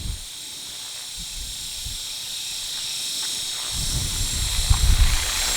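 A small ALIGN 450L electric RC helicopter with a red canopy settles in to land on its own, its steady high rotor and motor whine running throughout and growing louder and closer near the end.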